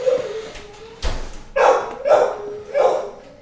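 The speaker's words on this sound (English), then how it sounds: "Can't control the dogs, man." Several dogs bark in quick bursts, about four loud barks after a thump, with a yelping, whimpering quality and some low background noise, fairly close.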